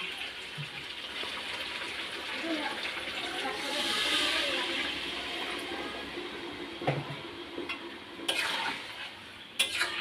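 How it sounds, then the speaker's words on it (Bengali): Water is poured into a pan of sautéed chilli chicken, bringing a rushing hiss and bubbling sizzle that swells then settles, followed by a few clinks of a utensil against the pan. "মাংসটা কষানো হয়ে গেছে, এবার আমি জল দিয়ে দেবো।"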